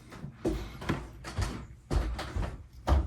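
An interior door is pushed shut in a home while someone whittles a dwarf figure, giving a few dull knocks and thuds at close range amid soft bumps and household movement.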